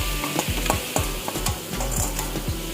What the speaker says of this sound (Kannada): ಇವಾಗ ಬೇಯಿಸಿರೋ ಅಂಥ ಕಾಳು ಮತ್ತು ತರಕಾರಿ ಇದ್ರೊಳಗೆ ಮಿಕ್ಸ್ ಮಾಡ್ತಾ ಇದ್ದೀನಿ